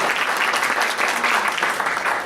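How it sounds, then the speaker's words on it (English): A business seminar audience in San Antonio applauds as the speaker Bruce is introduced, a loud, dense and steady burst of clapping filling the room. "Let's give Bruce a round of applause."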